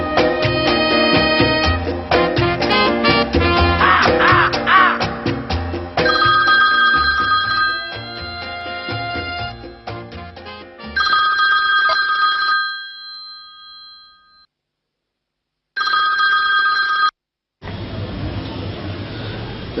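A landline telephone rings in a series of loud, repeated electronic trills rising out of a stretch of music, ending in a few separated rings with silent gaps between them.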